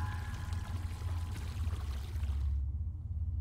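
Surgical flushing in a video game's colon operation, a steady gushing pour of water that runs close and loud for a few seconds before cutting off abruptly, with no talking.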